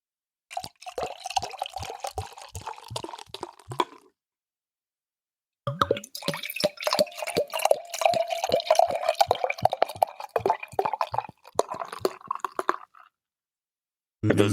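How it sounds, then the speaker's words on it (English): A half-liter of beer is poured into a glass at close range. The pour makes rhythmic glugging and splashing in two bursts, a short one and a longer one, separated by a few seconds of silence. "Anders has just poured the perfect beer."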